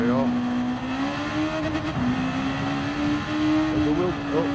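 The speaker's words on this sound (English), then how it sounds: "This is a mid-engine rear-wheel drive car as far as I know. It's an NSX Honda." In a driving video game, a mid-engine, rear-wheel-drive Honda NSX holds a steady, loud engine drone that dips briefly, as if at a shift, then climbs back to a sustained high-revving tone.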